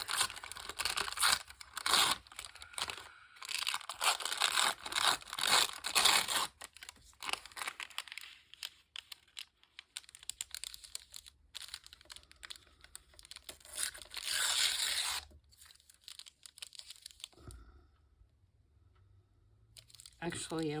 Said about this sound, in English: I'm going to tear it in such a way that you can still see some of the cardboard